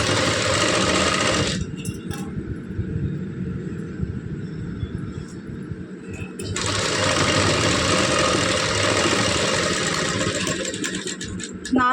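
A sewing machine with a normal presser foot runs at a steady, close whir while stitching thread piping onto folded cloth. It stops for a few seconds in the middle, then resumes at full speed.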